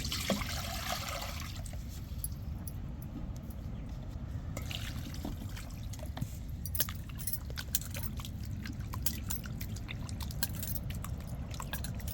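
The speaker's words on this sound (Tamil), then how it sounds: "இப்போ தண்ணியை ஊற்றி நம்ம நல்லா அலசி எடுத்துக்கிடுவோம் சிக்கனை" Water pours and trickles over raw chicken being rinsed in a home kitchen, a steady close splashing with small drips and clinks throughout and no talking.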